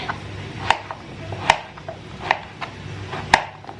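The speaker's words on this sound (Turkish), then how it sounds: "Bu şekilde doğruyorum. Kabaklarım bitsin." A knife chops zucchini on a cutting board, sharp evenly spaced thunks about once per second, close and clear with no talking.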